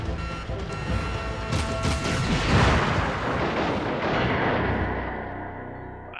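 Heavy gunfire rumbles in the Jak 3 game while shooting track targets, a loud, booming, continuous roar with crashing impacts that swells midway and slowly fades.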